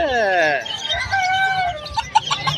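A rooster at a pet market in Malabon gives a loud, close, drawn-out crowing call, then short clucks, with a few muffled voices underneath.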